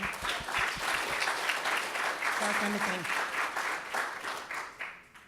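An audience at a showcase event applauds the organizers with steady, dense clapping that holds for several seconds and then begins to thin out. Voices and crowd murmur run underneath.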